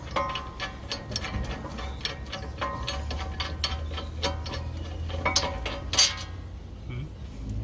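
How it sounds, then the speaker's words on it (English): Ratcheting and clinking of a wrench removing brake caliper bracket bolts on a 2014 Dodge Durango, rapid repeated metallic ticks with occasional clanks, close up, no talk. "take the bolts out"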